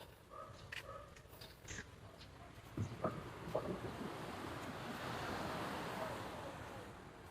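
Sea waves wash onto the shore at a beach resort in Real, Quezon, a broad hiss of surf mixed with wind noise, with a few faint knocks and voices in the background early on.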